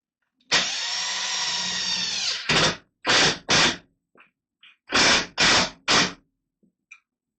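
A power drill drives drywall screws into pine wood: one long steady whir of about two seconds, then several short, loud bursts as each screw is run home, with brief pauses between them.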